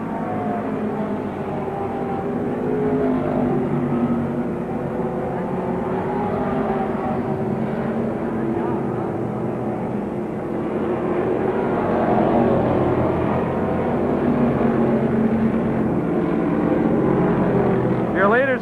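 Late model super stock race cars circle a track in a steady, droning roar of engines that holds near constant and slightly swells as the pack approaches, with an announcer talking over it throughout.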